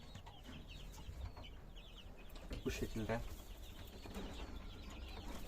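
Chinese quail and another small bird call in short chirping bursts from a backyard coop, faint and scattered, with one louder flurry midway; someone speaks briefly.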